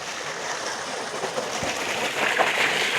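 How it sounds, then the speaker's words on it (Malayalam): Water gushing from an opened tap into a pond used for washing beetroot, a steady broad rushing flow heard at moderate loudness, swelling slightly toward the end. "കണ്ടോ, വെള്ളം തുറന്നു വിട്ടെ."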